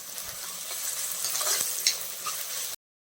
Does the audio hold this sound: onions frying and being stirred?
yes